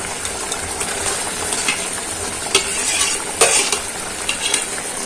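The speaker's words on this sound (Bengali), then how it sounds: "গ্রেভিটা ফুটে উঠেছে, এই সময় আমি দিয়ে দিচ্ছি ফিঙ্গার স্টাইলে কেটে রাখা পনিরগুলো" Paneer fingers go into boiling gravy and get stirred, a steady bubbling, sizzling cooking noise with a few sharp clinks of a utensil against the pan partway through.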